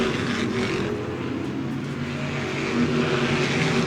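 Modified stock cars race down the front straight of Twin State Speedway, a short track in Claremont, New Hampshire, a continuous loud roar of engines, steady and dense with no break.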